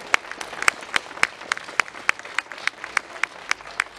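Audience at the Habry gastronomic festival clapping in a steady rhythmic beat, about fourteen sharp, evenly spaced claps in unison, moderately loud and without talk.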